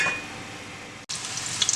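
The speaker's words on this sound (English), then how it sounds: "I have some hot oil going and I'll drop some onion in there for flavor, and I'm just going to start frying my fish" Onion and fish sizzling as they drop into hot oil, a steady bright frying hiss broken by a brief pause, then crackling spits and pops near the end.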